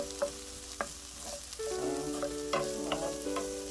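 Garlic for chicken adobo sizzles in hot oil in a pan, a close, steady fry broken by scraping stirs and clinks of a utensil, with no voices.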